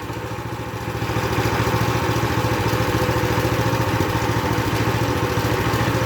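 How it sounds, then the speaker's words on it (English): A 420cc Predator go-kart engine idles with a steady, rapid putter and mechanical clatter, close and fairly loud, running evenly for several seconds with no talking. "So what I'll do is I'll let it idle for a few minutes."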